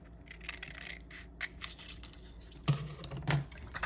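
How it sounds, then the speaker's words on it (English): Ordinary scissors snip a small square around a hot glue seal: a few close, crisp crunching cuts with quiet rustling handling in between, and two louder snips near the end. "I'm gonna use just regular scissors to kind of cut a little square around this"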